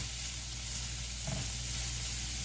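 A vegetable medley fries in a pan with a steady, close sizzle and crackle that stays even throughout, with a brief stirring noise partway through.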